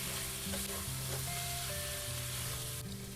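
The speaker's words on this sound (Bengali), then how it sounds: "এবার মশলাটা ভালো করে কষিয়ে নিতে হবে" Ginger paste, fennel, coriander and cumin sauté in a pan, giving a dense, continuous sizzle with faint stirring and no voices.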